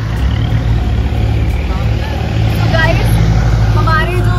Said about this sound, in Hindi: दूसरी गाड़ी आ गई गाइस।